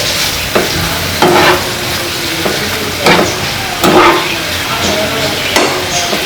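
Honey garlic sauce is stirred into chicken in a pan, giving a steady sizzle broken by repeated loud, rhythmic scrapes of a utensil against the pan.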